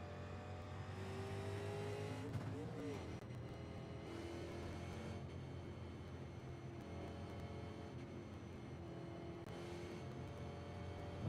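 Race car engines in an iRacing-style series drone at high revs through a long, steady stretch of pit lane and track running, with brief pitch shifts as cars accelerate and pass, and no talk.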